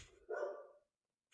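A single dog bark, aimed at a leaf outside a window, sounds fairly close indoors and is followed by a pause and a short faint trailing sound.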